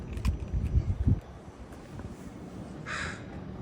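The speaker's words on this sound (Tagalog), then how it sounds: "Eliza Jane, say hi to the bird, pero wag kang lumapit." A crow caws loudly several times in quick succession near a fishing wharf at low tide, followed by quieter ambient harbor noise.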